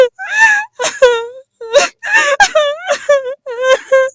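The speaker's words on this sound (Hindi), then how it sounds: "फिर अचानक अंदर से किसी औरत के रोने की आवाज़ आई।" A woman wails and sobs from deep inside a dark well, long quavering moans broken by gasping breaths, loud and close with nothing else around.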